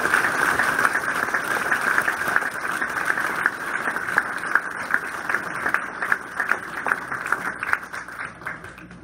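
Sustained applause from an audience at an induction ceremony, a dense and steady patter of many hands clapping that continues at an even level throughout.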